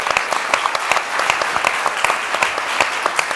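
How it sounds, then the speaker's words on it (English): An audience at a panel discussion on fired workers and a union gives steady, close applause, with many distinct hand claps standing out from a dense patter. "I think we should give him an applause for organizing this."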